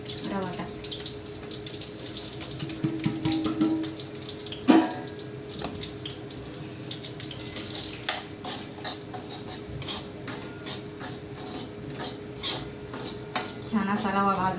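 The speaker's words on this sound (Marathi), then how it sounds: "आता रवा भाजून घेते मी." Semolina (rava) roasting and being stirred in a pan in a home kitchen, with repeated scraping and clinking strokes of a spoon against the metal, growing busier in the second half, close and moderately loud.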